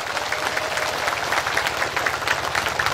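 Congregation members at a religious gathering in a village mosque clap together, a continuous, fairly even patter of many hands with a low hum running beneath it.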